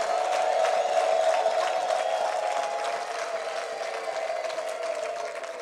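A church congregation at a Kinyarwanda-language service applauds with high, sustained ululation rising over the clapping. The crowd noise is dense and steady throughout, easing slightly toward the end.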